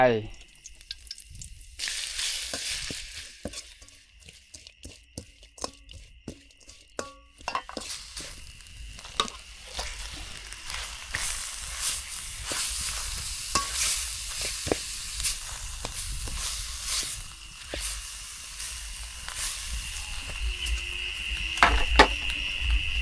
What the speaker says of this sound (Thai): ผัดเผ็ดสูตรแม่บ้าน